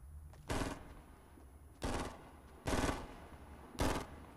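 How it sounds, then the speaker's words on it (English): Gunfire in the Fortnite Battle Royale video game: four separate loud bursts of shots spaced roughly a second apart, each short and sharp over a quiet game background, with no talking. "Hear gunfire."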